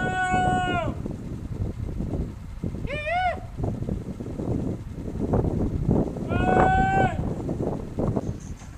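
Heifers being moved for sorting moo several times in drawn-out calls from a nearby herd, over a busy background of shuffling and wind, with a person speaking briefly.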